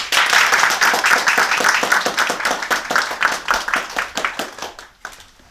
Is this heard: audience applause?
yes